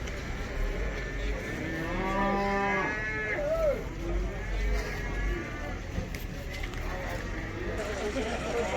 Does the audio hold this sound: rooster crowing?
no